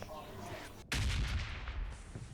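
Gunfire in the PUBG Mobile battle royale game, a single loud, close blast that cuts in sharply and rolls into a rumbling tail, following a quieter stretch of muffled background noise.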